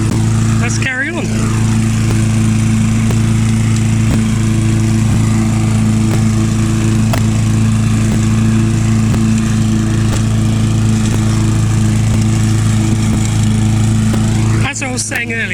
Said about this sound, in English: this mower will cut grass up to your knees